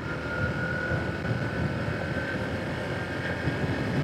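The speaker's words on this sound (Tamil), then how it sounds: "நான் த்ராட்டில் கொடுக்குறேன் 3rd கியரில்." A 2025 Honda Shine 100 DX motorcycle is ridden under throttle in third gear, its engine a steady droning hum mixed with heavy rushing wind noise for the whole stretch.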